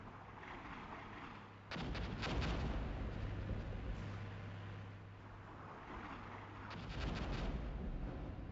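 Artillery shells burst in the tank-combat video game Armored Brigade: two heavy, rumbling impacts a few seconds apart over a steady low roar, moderately distant and with no talk.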